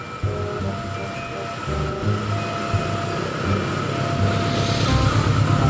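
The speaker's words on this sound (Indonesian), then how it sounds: "Widih, ternyata ada kereta api." A toy train runs in a steady mechanical whir with a rhythmic clatter, loud and close, with no talk.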